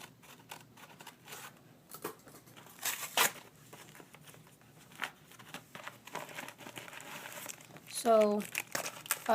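Package wrapping crinkles and rustles in bursts during an unboxing of baseball bat wax, close and uneven, with a sharper tearing crackle near the end.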